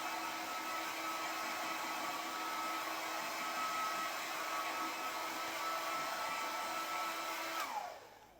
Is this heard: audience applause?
no